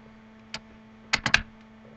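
Brief typing on a computer keyboard: one isolated keystroke followed by a quick cluster of three clicks, close and crisp over a faint steady hum.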